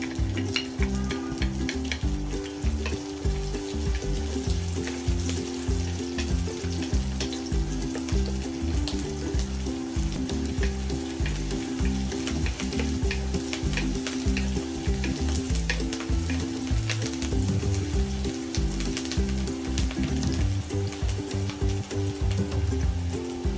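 Onions for beef fried rice fry in a pan, a loud continuous sizzle close up with steady stirring scrapes and no voices.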